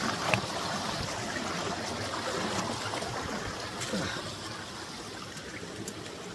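Water from a hidden waterfall in a remote spot rushes and splashes in a steady, broad roar, continuous and moderately close throughout.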